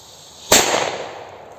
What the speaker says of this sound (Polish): z odległości 5-6 metrów, powiem wam, ogłuszyła mi prawe ucho ta petarda trochę